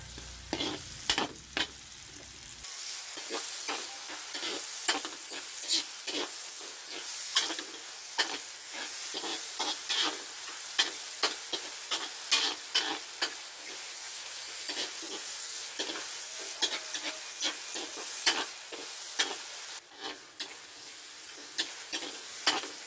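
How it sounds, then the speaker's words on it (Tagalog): Garlic sautés in a pan as white and red onions go in, a soft hissing sizzle punctuated by frequent sharp crackles and pops, steady and close with no voices. "Dito nagisa-gisa ng konti ang bawang ay lalagay na natin ang sibuyas na puti at pula."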